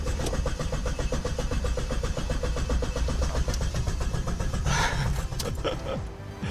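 An old Jeep engine cranks with a rapid, rhythmic churning of the starter and then catches. The engine settles into a rough, close idle, with a brief clunk near the end.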